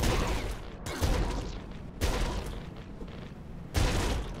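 The Super Trident weapon firing in the video game Nuclear Throne: four heavy booming shots spaced about a second apart, each a sharp burst with a fading rumbling tail.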